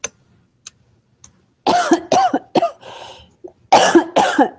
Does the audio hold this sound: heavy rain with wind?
no